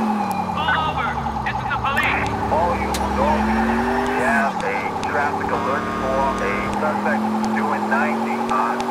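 A ROTAM police Pajero driving in the video game GTA IV, with a steady engine drone, a wailing siren and occasional tire squeals, loud and continuous while someone talks over it.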